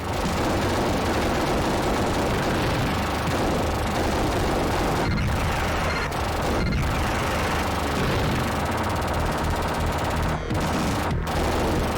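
Rapid continuous gunfire from a Terminator light gun game played with the Sega Menacer on the Mega Drive, a dense, unbroken rattle of shots over rumbling game noise with a few brief sharp breaks, loud throughout.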